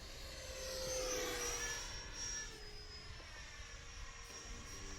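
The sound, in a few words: Freewing 70mm F-22 Raptor RC jet flying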